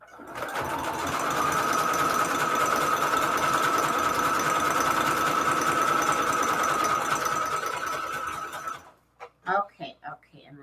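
A sewing machine stitches a patchwork cover for a Valentine's Day junk journal in one long, even buzzing run of about eight seconds, then stops and a voice talks briefly.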